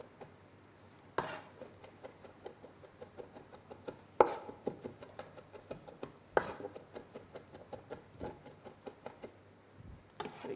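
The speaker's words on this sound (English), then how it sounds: "just running my knife through, as you can see, just chopping that fairly fine" A knife chopping garlic finely on a wooden board, with quick, steady taps and occasional heavier knocks, close and clear with no talking.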